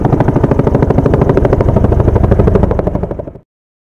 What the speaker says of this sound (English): Firefighting helicopter.